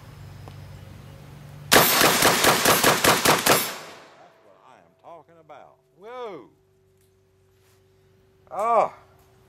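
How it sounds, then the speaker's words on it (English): A Benelli 12 gauge shotgun, Limited Duck Edition, fires about eight loud shots in quick succession, a burst of sharp blasts lasting roughly two seconds. Afterward someone speaks briefly in short phrases. "I'm going to shoot this one a little fast"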